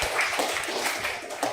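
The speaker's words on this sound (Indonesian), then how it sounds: "tepuk tangan dulu buat Mas Alif" A group claps together in a short, lively burst of applause, fairly close and loud.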